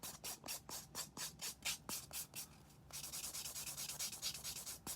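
Nail filing with the fine 180-grit side of a nail file, a dry rasping scrape in quick regular strokes, about ten even passes followed by a denser, faster run of short strokes, close and fairly quiet with no talk.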